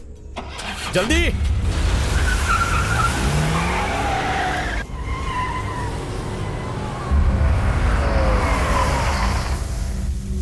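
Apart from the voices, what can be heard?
car engine starting and driving off fast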